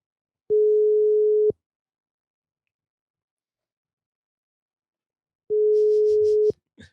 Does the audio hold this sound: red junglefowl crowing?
no